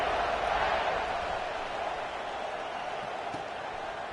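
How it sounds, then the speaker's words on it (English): Stadium crowd in a Madden football video game, a steady broad roar of cheering fans that fills the whole stretch and eases slightly toward the end. "this crowd is buzzing after that last score"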